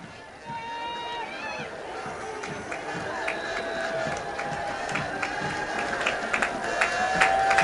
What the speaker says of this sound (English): They're clapping for him now.